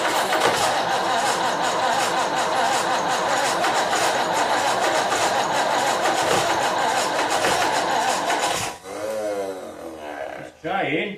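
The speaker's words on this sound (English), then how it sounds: "So let's just see what happens. We'll give her some choke and see if she tries." A 1954 Anglia car engine cranks on choke, its starter churning continuously for around nine seconds in a loud, rhythmic whirr before stopping, followed by a couple of shorter cranking bursts.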